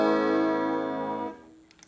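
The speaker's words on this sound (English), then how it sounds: "This is with the flanger." One strummed guitar chord sustains with a sweeping, whooshing flanger tone, then fades out, leaving a couple of soft clicks.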